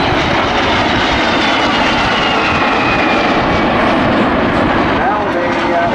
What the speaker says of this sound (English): Now the Mustang actually is under reverse now on the tail of the two Vampires